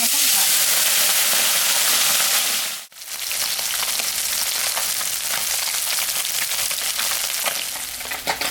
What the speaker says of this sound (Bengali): তেলটা গরম হয়ে গেছে মাছটা